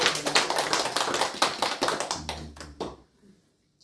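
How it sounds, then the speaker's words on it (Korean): Congregation applause during a Sunday worship service at a Korean church, a burst of brisk, close clapping that thins out over the last second into near silence. "우리 하나님 앞에 영광의 박수 올려드리겠습니다"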